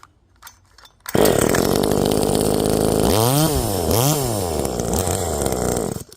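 A Farmertec G2511 chainsaw, an Echo clone, starts up loudly after a brief quiet moment, then runs continuously, its engine revving up and down twice before settling into a steady whine.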